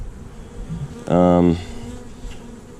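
Honeybees buzz in an open hive during an inspection, a loud close burst of droning wingbeats lasting about half a second over a quieter hum of the colony.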